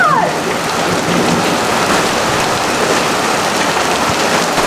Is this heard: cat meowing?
no